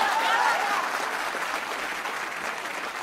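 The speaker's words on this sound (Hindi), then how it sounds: "एक बार और तालियां बजा दो बच्चे के लिए।" An audience claps for a child in a steady, dense wash of applause that holds fairly loud throughout, with crowd voices and cheers mingled in.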